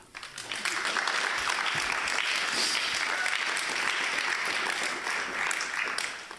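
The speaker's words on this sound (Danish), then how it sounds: "Klappa för igång." A live audience claps steadily and loudly for several seconds, the applause swelling quickly and then holding dense and even before tapering at the end.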